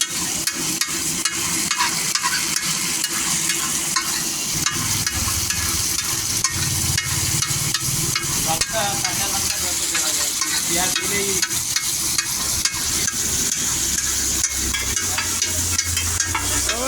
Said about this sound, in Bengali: ভালোভাবে পেঁয়াজ দিয়ে কষি লাগে